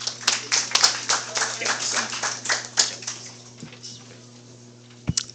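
Audience applause at an event at the AU Mission in the USA: a run of fairly close, distinct hand claps that thins out and fades after about three seconds, leaving a quieter room with a couple of late claps.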